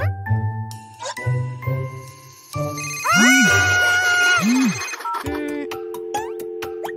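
A telephone rings unanswered in a cartoon scene on a rainy night, with jingling bell-like ring bursts, swooping chime tones and a steady ring tone, loud and close.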